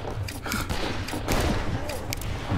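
Gunfire in the Wild West shooter game Fistful of Frags, a dense, loud, continuous crackle of shots layered over rumbling background noise, with a few sharper reports standing out and faint voices mixed in.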